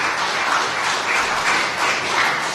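Audience applause for a parks and beaches unit at a public meeting, a steady, dense wash of many hands clapping at moderate distance, continuing evenly throughout.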